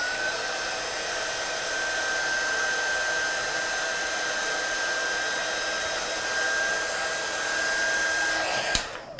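A hair dryer blows steadily to dry watercolour paint on a stamped card, a loud, close, constant whirring rush with a high whine that stops abruptly with a click near the end.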